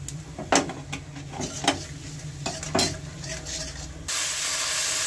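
Cumin seeds hit hot oil already tempered with bay leaf, dried red chilli and panch phoron, giving a steady close sizzle broken by several sharp utensil scrapes and stirring clicks, then a louder, even hiss near the end.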